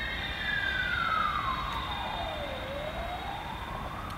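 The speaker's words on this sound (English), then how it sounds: "there is a highway behind you if you are wondering about the sound" Steady roar of traffic from a nearby highway, with a siren sweeping down and back up in pitch through the constant wash of passing vehicles.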